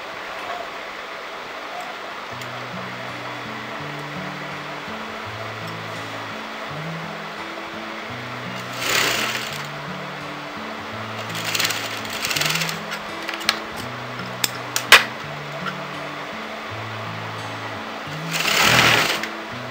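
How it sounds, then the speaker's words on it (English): A sewing machine stitches a kurti sleeve, its close, steady motor chatter running in short repeated bursts, with a few louder fabric rustles and handling sounds breaking in near the middle and end. "I'm going to start sewing."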